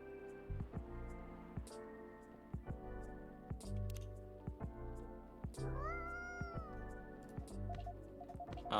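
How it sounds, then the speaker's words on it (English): A cat meows several times after being woken by a machine: short close meows and one longer, rising caterwaul-like cry, heard over a faint background hum. "Poor kitty, did the machine wake you up?"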